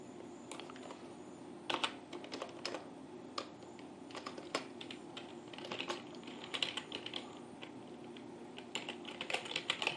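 Steady, quick clatter of keys on a computer keyboard while writing CSS code, continuous irregular tapping heard close and alone with no voices.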